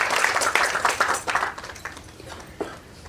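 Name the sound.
temple devotees clapping loudly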